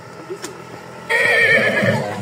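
A horse offered for rides at a hiking spot near Indradaha, Chandragiri, in Nepal, gives a loud, close whinny with wavering, shaky pitch after a quieter stretch of outdoor background.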